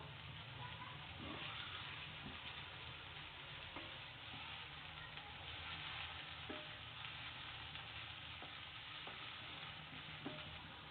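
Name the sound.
tomato masala frying in a pan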